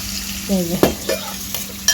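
Shrimp and taro cook in a pan, with a loud, close sizzle under several sharp scraping stirs and clanks of a utensil against the pan.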